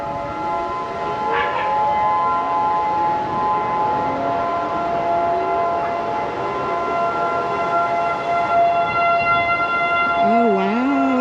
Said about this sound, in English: So they run this tornado test every Saturday at noon